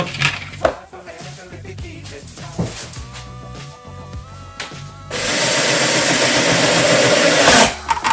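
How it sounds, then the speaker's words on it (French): A back panel is screwed into place. Clattering handling and knocks come first, then a loud, continuous whirring power-screwdriver burst lasts a few seconds before stopping. "Le fond que je visse."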